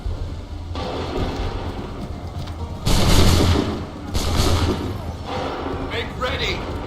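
Musket volleys crack out in Assassin's Creed III, a dense, loud burst of gunfire followed by a second rolling volley, with shouted orders and battlefield rumble around them.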